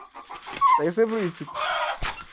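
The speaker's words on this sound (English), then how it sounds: "my dog wants to go outside" A dog whimpering to be let outside, high whining yelps close by, mixed in with people talking over it.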